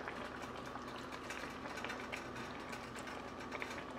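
A spoon working through a simmering beef pot roast sauce, giving a low, steady bubbling and scraping texture that stays faint and even, with no talking.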